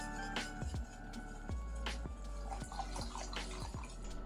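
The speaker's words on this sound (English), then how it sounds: "start gradually pouring in room temperature water" Room temperature water is poured gradually into a bowl of rice flour, heard as soft trickles and drips with small splashy taps, quiet and close.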